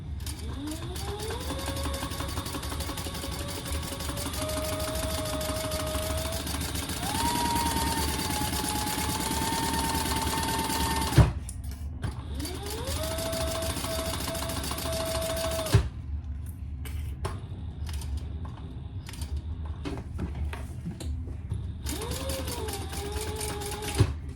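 Sewing machine basting stitches through fabric for a sling bag, running in steady continuous bursts with brief pauses between runs and a few sharp clicks, close and alone.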